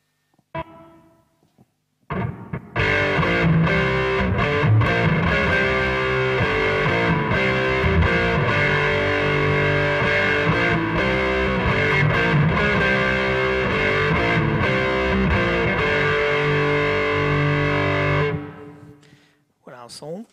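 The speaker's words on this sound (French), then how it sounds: "on va attaquer les sons un peu plus violents, les sons lead avec une grosse distorsion" Heavily distorted electric guitar lead through an ADA MP2 tube preamp, playing a sustained, loud, dense phrase for about sixteen seconds after a brief pause, then cutting off.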